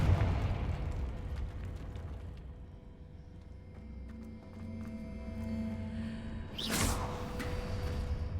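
Spell-impact effects from the Confringo explosion spell in Hogwarts Legacy: a rumbling, low burst that swells and fades, followed by a brief sharp whoosh-crack near the end, with no talking.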